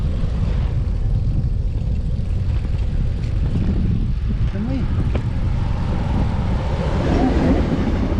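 A train rumbling past near an elevated riverside cycle path, a continuous heavy low roar with faint rhythmic clatter, loud and close throughout, mixed with wind and a voice speaking now and then.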